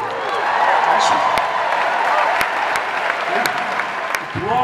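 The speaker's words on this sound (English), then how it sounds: "Applause for a ukulele." An audience bursts into applause and some cheering, a dense clapping wash with a few sharp individual claps standing out, while a voice talks over parts of it.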